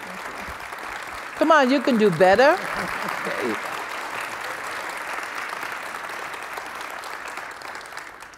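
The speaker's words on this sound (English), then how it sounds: "I would ask you to give them an applause." A forum audience applauds a panel with steady, moderate clapping throughout; early on someone speaks briefly over it, then the applause carries on alone.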